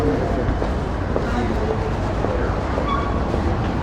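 A tram rolls along a Melbourne city street, a steady broad rumble of wheels and motor mixed with surrounding traffic noise, continuous and fairly close throughout.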